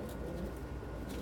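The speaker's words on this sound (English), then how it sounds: "The birds." Pigeons or doves coo softly and faintly at feeding time, a brief low murmur against quiet background.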